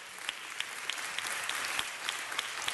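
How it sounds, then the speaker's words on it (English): Audience applause at a city council meeting, a steady wash of clapping from a room full of people with sharper individual claps rising out of it, no speech over it. "Give them a round of applause."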